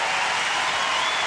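Home crowd at a US Open tennis match applauds in a dense, even burst of clapping filling the short stretch, with no voices standing out.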